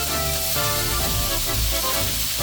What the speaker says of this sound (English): Let beef chunks sear undisturbed for a few minutes